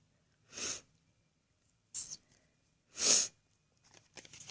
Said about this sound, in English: I'm having a cold, so excuse my sniffles.